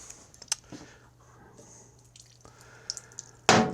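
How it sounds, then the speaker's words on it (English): Gasoline drips and trickles from the fuel line of a Poulan Pro 185A42LT riding mower, with soft sparse drops over a low steady hum, ending in a sudden louder splash or clatter. "what we'll do is we'll just drain off the little bit of gas that's in there."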